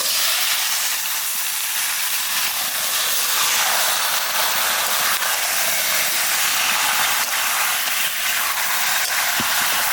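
Mutton dropped into a pan of onions fried until reddish, for a Bengali goat curry, giving a loud, steady sizzle and hiss that fills the whole stretch, alone with no voices.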